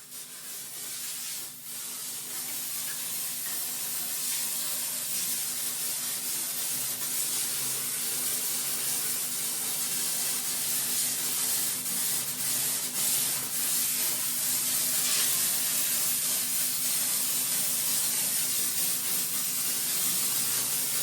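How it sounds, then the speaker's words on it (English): Hot steam from a steam cleaner sprays against a dirty bathroom wall in a steady, continuous hiss that stays loud and close throughout, with no talking. "I will give you 30 seconds of lovely, relaxing, steamy sounds"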